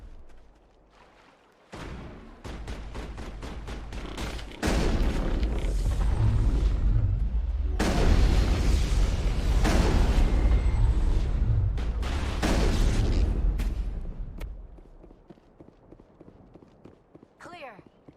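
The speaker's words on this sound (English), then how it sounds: "Manovai is under coordinated crossfire." Coordinated crossfire in a Mass Effect firefight: rapid gunshots build into a long, loud, roaring barrage of shots and explosions that holds steady for several seconds, then fades to quieter rumbling, with voices faintly mixed in.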